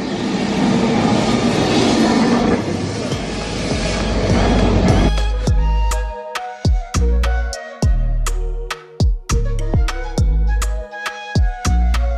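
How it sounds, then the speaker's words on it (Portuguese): A Lisbon tram passes close by, first as a loud, heavy rumble, then as a rapid series of sharp metallic clacks and ringing wheel-on-rail knocks. No one speaks. "Olhem o elétrico."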